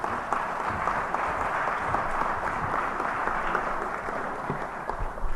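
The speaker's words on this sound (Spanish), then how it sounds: "Le brindamos un fuerte aplauso," An audience at a book presentation applauds with continuous, even clapping at a moderate level, crowded and steady with no speech on top.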